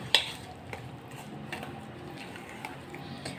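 Curd being stirred into buttermilk in a bowl for an instant farali handvo batter: soft, close scraping and sloshing strokes with a few faint clinks, quiet and steady with no talk.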